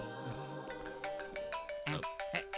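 A mobile phone ringtone plays a bright, repeating melodic tune that grows louder over a couple of seconds, with no talk over it.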